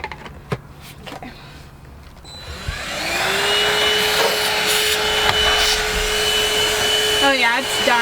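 A battery powered vacuum cleaner starts up and runs with a steady high whine while cleaning a truck interior, with scraping and rubbing of the nozzle against surfaces. Quiet fumbling comes first, before the motor kicks in.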